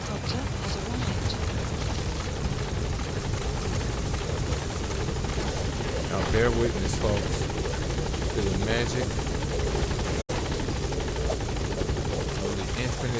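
A support helicopter in the video game Metal Gear Solid V: The Phantom Pain drones and thumps steadily and loudly throughout, with someone talking over it and a brief dropout near the end.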